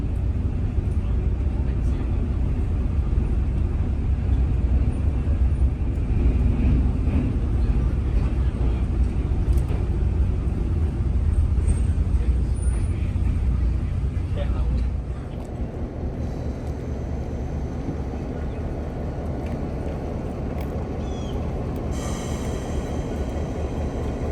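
Heritage locomotive 986 on the Tennessee Valley Railroad's Missionary Ridge Local rolls into the East Chattanooga station, a loud, steady low rumble heard from on board that drops and quiets about two-thirds through as the train slows.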